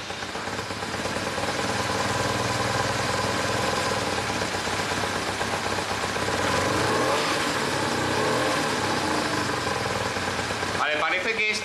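A BMW R1150RT boxer-twin motorcycle engine runs steadily at idle during a service, a dense continuous mechanical drone with slight rises in revs, ending in a brief clattering change.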